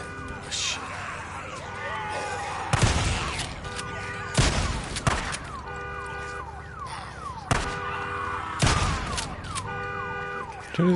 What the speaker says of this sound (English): Turn his car alarm off.